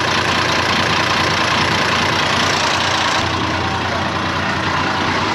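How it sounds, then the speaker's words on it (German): An old International Harvester 1055 tractor engine with a leaking injection pump idles loudly and continuously close by, with a rough, slightly uneven chugging that never stops. "dass der Motor ein bisschen ungleichmäßig gerade läuft"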